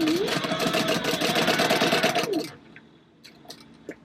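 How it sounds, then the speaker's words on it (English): A sewing machine runs a continuous fast stitching burst across fabric D-ring connectors for about two seconds, then stops, leaving faint handling clicks and quiet room tone. "I'm just sewing down one side across and then back down"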